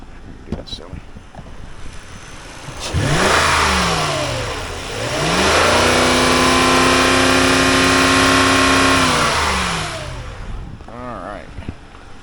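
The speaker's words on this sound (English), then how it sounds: "Give it a little revs" A 2011 Lexus GX460 1UR-FE V8 engine revs up loudly twice at a wrecking yard, pitch sweeping up and falling back, then holds a high roar before settling to idle.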